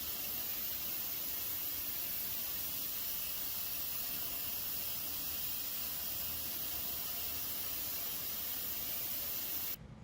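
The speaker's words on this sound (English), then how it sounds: "Now here we're using airbrush to add a bit of red to the edges of the yellow mat" An airbrush sprays red paint onto the edges of a yellow picture-framing mat, a steady, close hiss of air and paint that holds unbroken for about ten seconds and cuts off at the very end.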